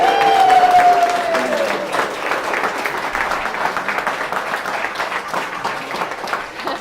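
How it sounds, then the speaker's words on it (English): Wedding guests applaud the newly married couple at their ceremony, a full room of steady clapping that swells and holds for several seconds, with a voice over it at the start. "Give them a big round of applause"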